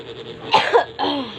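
A short fit of coughing, two or three harsh coughs close to the microphone.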